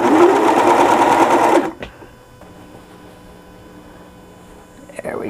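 A sewing machine stitches a T-shirt in a fast, steady whir for about a second and a half, then stops abruptly, leaving faint room noise and a small click near the end.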